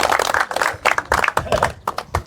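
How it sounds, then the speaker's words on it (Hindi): Applause at an honoring ceremony at a cow shelter foundation event, a crowd clapping in uneven bursts of loud, close claps that rise and fall across the clip, with no talk over it. "जोरदार तालियां।"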